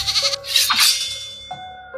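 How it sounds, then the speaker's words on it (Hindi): A goat bleats and screams loudly in several sharp, wavering cries, close by and with no talk over them. "वो बाहर गया और कुछ देर बाद बकरी की जोरदार चीख वहां सुनाई दी।"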